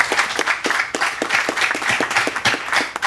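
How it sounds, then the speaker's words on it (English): Audience applause at an aviation anniversary event, dense irregular clapping from many hands, fairly close and loud, continuing steadily for a few seconds with no talk over it. "I think we need to have a big round of applause to Wei Chen."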